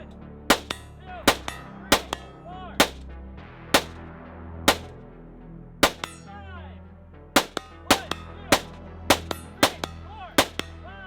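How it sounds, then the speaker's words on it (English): A steady string of sharp rifle shots, each followed by a ringing metallic clang as steel targets 100 yards away are struck, fired from a wobbly bridge during a desert shooting competition, with even gaps between impacts. "I then engage the steel targets 100 yards away, 5 shots each on those while on the wobbly bridge."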